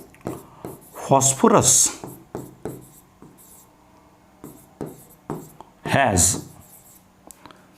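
A pen writes by hand with short scratchy strokes and taps in an irregular rhythm, while a teacher talks in between and over the writing.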